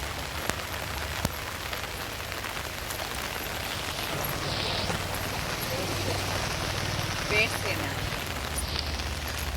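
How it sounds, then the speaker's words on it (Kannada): Steady rain-like wash of water over a road where rainwater collects while people walk past parked cars, a continuous even hiss through the whole stretch with talk faintly mixed in. "ಮಳೆ ನೀರಿದು ನೋಡಿ."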